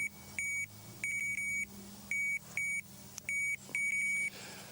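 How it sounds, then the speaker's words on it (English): A fishing bite alarm on a winter river pike rig beeps in short repeated bursts, some single and some in quick doubles, close and clear over a low steady background hum. "Now I'll turn the bite alarm off"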